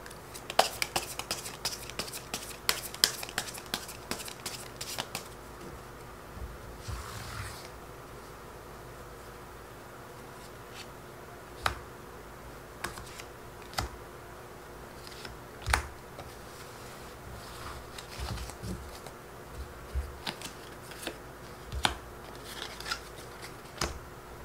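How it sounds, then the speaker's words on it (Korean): Tarot cards are drawn and handled, with scattered soft clicks, snaps and rustles of card stock, a quick flurry early on and then isolated taps against a quiet background, with no speech. "이후에 상대방은 어떤 행동을 하게 되는지 추가 카드 뽑아 볼게요"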